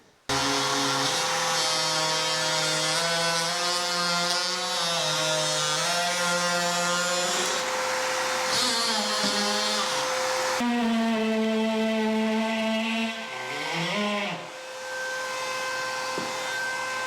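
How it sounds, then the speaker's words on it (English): An oscillating multi-tool fitted with an old blade cuts through sheetrock, a loud, continuous high-pitched buzzing whine whose pitch dips and wavers as the blade bites, close up and alone. "When it comes to cutting sheetrock, this works great using an old blade."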